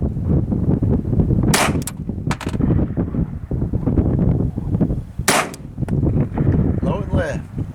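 Ruger Government .22lr handgun fired outdoors at a steel target 200 yards away in strong wind; two sharp, loud reports stand out over steady wind noise, with a faint answering ping possible between them.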